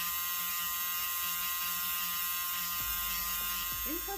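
An electric nail drill hums with a steady high-pitched whine while filing an acrylic nail with barely any pressure. The motor runs continuously throughout, with faint shifting tones toward the end.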